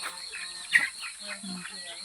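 Faint clucking of chickens amid steady insect buzz and outdoor ambience, with a soft voice briefly audible.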